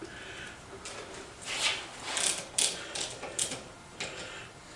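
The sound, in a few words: ratchet wrench loosening bolts to disassemble power hacksaw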